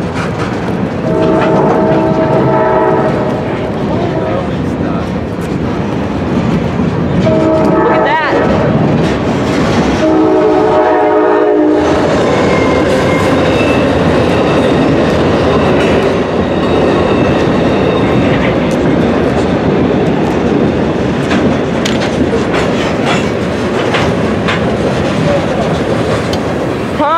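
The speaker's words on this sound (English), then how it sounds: "here comes Amtrak 29, the Capital Limited" Amtrak 29, the Capital Limited passenger train, approaches and passes close by in Brunswick, sounding a long, loud horn several times before the steady roar and rail clatter of its cars take over.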